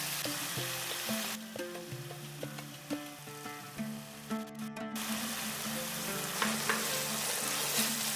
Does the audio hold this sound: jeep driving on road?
no